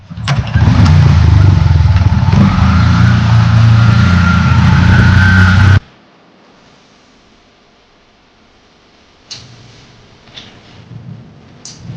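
A motorcycle engine runs loud and steady up close, then cuts off abruptly as the bike is stopped, leaving near-silence with a few faint knocks and rustles afterward.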